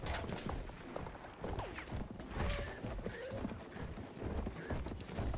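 Rapid hoofbeats of a horse galloping, with a neigh mixed in, over dense background game noise at moderate volume, in Battlefield 1.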